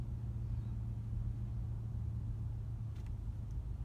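Steady low road rumble of peak hour traffic on Mount Henry Bridge, a continuous drone of car engines heard from close by, with a brief faint high rattle near the end.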